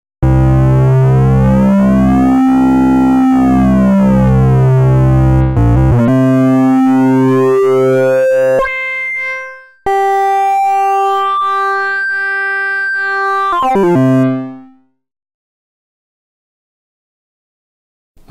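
A 6581 SID chip synthesizer plays a hard-synced oscillator, giving a loud, buzzy tone with harmonics sweeping up and down, then shifting to steadier held tones with a brief break before cutting off.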